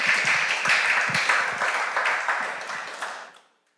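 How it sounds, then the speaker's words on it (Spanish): Church congregation applauding after a sermon, a moderate round of clapping that holds steady and then fades out quickly to silence. "¿Qué te parece si le damos un aplauso?"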